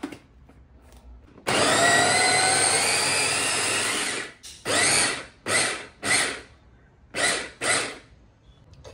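Kitchen mixer grinder chopping vegetables for a veg mayonnaise sandwich: one long, loud, steady motor whir lasting about three seconds, then five short pulsed bursts with pauses between them.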